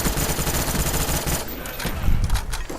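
Rapid automatic fire from a FAMAS rifle in Call of Duty: Black Ops, a dense unbroken burst of close, loud shots that stops partway and gives way to a few scattered, lighter cracks.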